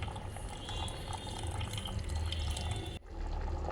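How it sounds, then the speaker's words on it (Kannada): Squeezed tamarind water poured into a pot of radish sambar, a close, continuous liquid gush that stops abruptly near the end, no talking. "ಕಿವಿಚ್ಕೊಂಡಿರುವಂಥ ಹುಣಸೆ ಹಣ್ಣಿನ ನೀರನ್ನ ಹಾಕ್ತೀನಿ"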